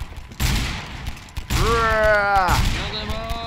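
Gunfire in Garry's Mod with customizable weapons: sharp shots and bursts, then a mechanical whirring tone with rising and falling pitch. A player's voice can be heard between them.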